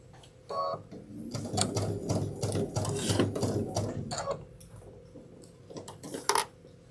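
A sewing machine stitches a fabric backpack slowly, producing a close, steady rhythmic clatter of needle strokes for several seconds before slowing and stopping.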